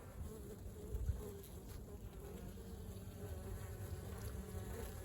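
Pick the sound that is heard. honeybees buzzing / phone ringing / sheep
honeybees buzzing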